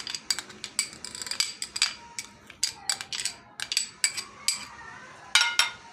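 A spoon stirring seeds and chopped nuts in a bowl for sugar-free dry fruit laddu, making quick, irregular clinks and rattles throughout with a fairly close, crisp sound.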